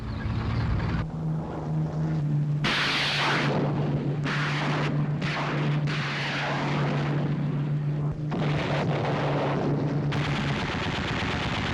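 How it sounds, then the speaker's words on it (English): Heavy gunfire of a WWII artillery barrage across the Rhine during Operation Varsity, continuous and loud with dense bursts of firing, a steady low engine-like drone running underneath throughout. "In the afternoon of March 23rd, the artillery barrage began."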